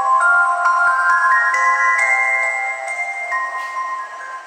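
Ballora's music box melody from the video game Five Nights at Freddy's Sister Location, a tinkling, chiming tune that plays continuously and fairly loud with no talk over it.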